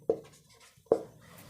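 A pen writing a formula, two short, distinct strokes or taps against paper about a second apart, close and fairly quiet.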